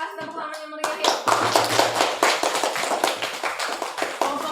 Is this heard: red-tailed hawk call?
no